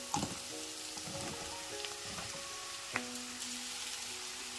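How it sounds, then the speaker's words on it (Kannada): Mushrooms frying in hot ghee after being tossed into the pan: a constant soft sizzle up close, broken by a couple of sharp clicks as they land and shift. "ಈಗ ಇದ್ರ ಜೊತೆ ಮಶ್ರೂಮ್ನ ಸೇರಿಸ್ಕೊತಾ ಇದ್ದೀನಿ"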